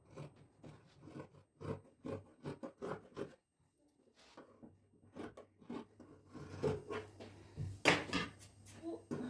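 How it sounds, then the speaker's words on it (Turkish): Dress fabric for a child's dress is cut along a drawn line with scissors in a run of short, rasping snips, close and fairly quiet, pausing briefly before resuming. "Ve bunu hemen kesiyorum."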